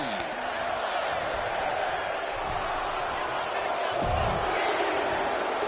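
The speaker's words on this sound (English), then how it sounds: "This crowd's counting down for number 17." Crowd noise from a WWE 2K26 Royal Rumble match in the video game, a steady roar of an arena audience counting down an entrant's arrival, loud and continuous with a few thuds, under commentary-like game audio.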